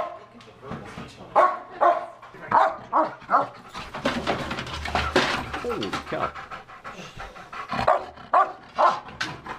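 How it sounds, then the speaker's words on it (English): Dog heard up close at the Troy Police Department, panting heavily in rhythmic bursts with occasional yips and barks, while someone speaks briefly partway through. "I'll try to get away from this dog."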